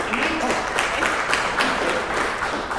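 Audience applause at a parent association meeting, a steady wash of many hands clapping throughout, fairly close and even in level with no clear breaks.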